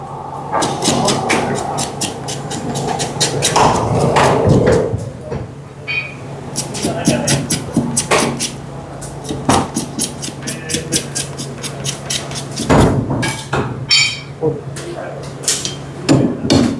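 Goat trotter bones are chopped with a cleaver, a series of sharp, irregular whacks close by, with someone talking over much of it.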